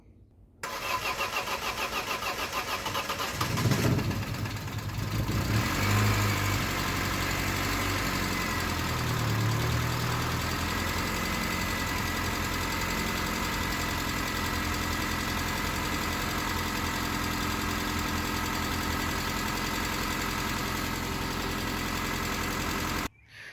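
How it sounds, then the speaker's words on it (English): A 1995 Saturn SC2 engine cranks and fires up for its first start after installation, revs briefly, then settles into a steady, rough idle that continues for a long stretch nearby. "I guess we're going to do our first start here"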